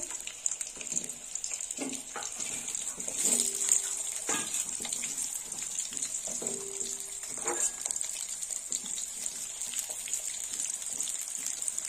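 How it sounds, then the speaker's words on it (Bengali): Potatoes frying in hot oil with a continuous hiss and a few clinks and stirs, close by. "আলুগুলো একটু লাল লাল করে ভেজে নেব।"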